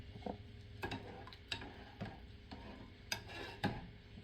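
A spoon stirring food in a pot at home, producing faint, irregular clicks and taps against the sides over a low background hum.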